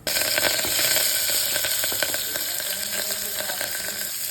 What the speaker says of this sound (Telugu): ఆయిల్ కూడా వేడెక్కేసింది. నేను పోపులు, సాసులు, జీలకర్ర, వామ్ వేస్తాను.